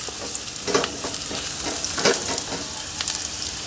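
Pork stir-fried with larb chili sizzles loudly and close, with repeated scraping and clattering stir strokes at an irregular rhythm and no voices.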